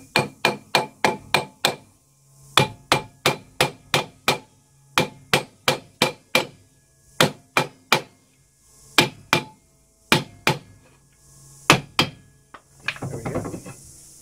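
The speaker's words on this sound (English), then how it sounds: "if you use a magic hammer, that's what I call it, a copper end and a hide end" A mallet with copper and hide faces taps a brake drum during drum brake work, striking in sharp clustered runs of four to six close hits with short pauses between, ending in a brief scraping rustle.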